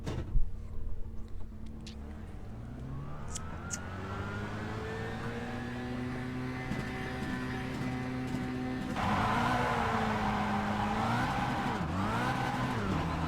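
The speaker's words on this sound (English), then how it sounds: "went for the up change and it just put it straight back into first, bouncing out the rev limiter" A Kia Cup race car in iRacing at Sebring, its engine droning in a steady, loud, harmonic whine held at high revs, then warbling and pulsing as it bounces off the rev limiter near the end.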